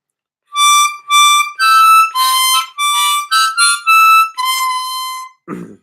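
A harmonica plays a melody phrase of about nine separate blown and drawn notes in an uneven rhythm, close and clear, ending with a short breathy noise and no talking.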